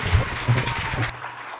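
An audience at a BAPS gathering applauds to thank actor Dilip Joshi, a brief burst of broadband clapping with a steady wash of hands throughout that thins slightly toward the end.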